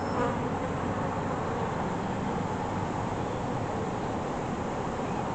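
Honey bees buzz steadily in an open hive during a spring inspection, a dense, continuous drone close by that holds at an even level throughout with no voices.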